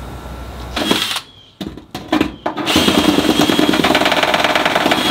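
A powered auger drill bores a hole through a barn or garage wall for a split cable grommet, whirring loudly in short stop-start bursts before settling into a long continuous grinding run.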